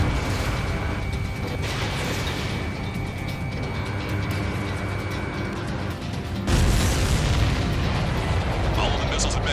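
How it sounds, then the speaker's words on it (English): Missiles explode in a bunker-buster mission of the flight combat game Ace Combat 7, producing a continuous roar of blasts that grows heavier and deeper partway through. The sound is loud and dense with a voice faintly beneath. "All of the missiles have been destroyed."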